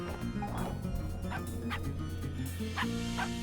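A dog in the video game Finding Paradise barks several times in short, spaced yips over a steady game music bed, fairly close and clear.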